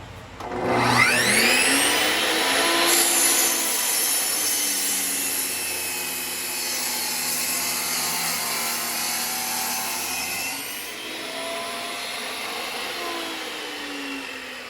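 A power tool whines loudly and steadily while cutting scrap wood to size, the pitch sweeping at the start and dropping as the blade slows near the end.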